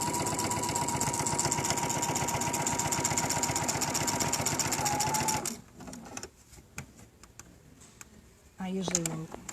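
A sewing machine stitches fabric in a fast, even mechanical whir for about five seconds, then stops, leaving quieter handling sounds and a brief voice near the end.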